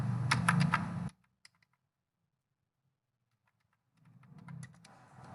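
Quick keystrokes clatter on a computer keyboard, a short close burst at the start, then near silence with a few faint taps, before another softer run of typing near the end.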